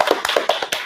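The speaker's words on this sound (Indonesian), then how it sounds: "Oke, tepuk tangan dulu." A short burst of hand clapping at a student podcast recording, several quick close claps in an uneven rhythm lasting under a second.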